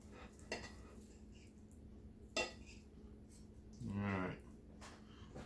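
A knife slices smoked spatchcock chicken, making a few sharp clinks of metal against a board at irregular intervals, with a brief low, voice-like murmur in between.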